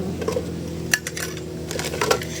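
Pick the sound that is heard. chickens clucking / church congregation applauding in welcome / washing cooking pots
washing cooking pots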